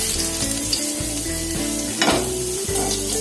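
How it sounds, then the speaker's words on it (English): Garlic frying in hot oil over a reduced flame for a lemongrass chicken stir-fry, a steady close sizzle with scraping stirs and brief bursts of crackle, no voices. "I'll add the garlic and I'll reduce the flame. I'll add the garlic like this. It will flutter a bit."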